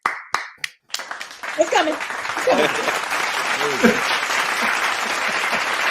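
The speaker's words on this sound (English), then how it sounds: "give him some hand claps" An audience clapping for a guest on a talk show, a burst of close hand claps that swells into steady applause, with a few voices speaking over it.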